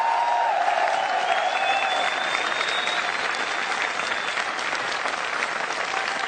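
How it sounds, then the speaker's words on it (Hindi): A large audience applauds loudly and steadily, a dense, continuous roar of many hands clapping close by, holding strong throughout with a faint whistle on top. "एक बार जोरदार तालियां के लिए हो जाए।"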